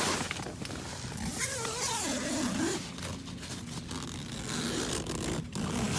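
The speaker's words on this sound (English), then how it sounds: "And if I zip up the bug net," A zipper runs steadily along the bug net of a one-person backpacking tent, giving a close, continuous scratchy zip that lasts several seconds with no talking.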